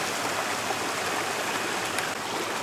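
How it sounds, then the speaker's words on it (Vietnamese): A small stream in Pù Luông nature reserve, Thanh Hóa province, Vietnam, flows with a steady, even rush of water, continuous and fairly close, with no voices. "đây là một con suối nhỏ ở trong khu bảo tồn thiên nhiên Pù Luông của thuộc tỉnh Thanh Hóa"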